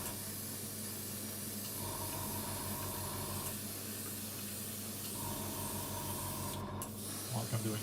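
VMS varnish sprayed onto a scale model from an airbrush that is not spraying properly, a steady hissing spray running throughout with brief pauses and a faint mechanical hum beneath.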